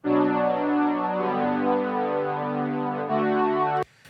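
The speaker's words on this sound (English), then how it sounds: "I have this synth line as well" A bright synth line holds smooth, sustained notes that shift pitch partway through, then cuts off abruptly near the end.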